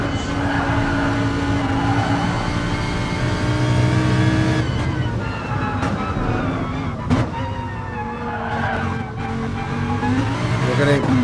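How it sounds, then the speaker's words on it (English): Trofeo Lamborghini race car in a racing video game on the Nürburgring, its engine droning steadily from onboard with rising and falling revs and a brief sharp transient, under commentary voices. "Let's jump on board the Trofeo Lamborghini."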